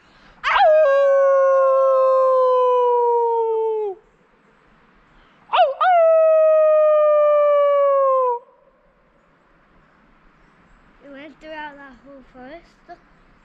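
Outdoors in a forest on a wild camping trip, voices imitate a wolf with two long, loud, falling howls, then a softer, shorter wavering howl after a pause, with silence between.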